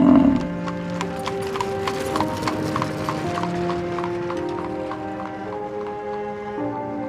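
A horse's hooves clip-clop in a steady, quick rhythm for several seconds after a brief whinny at the start, heard over sustained tonal background sounds.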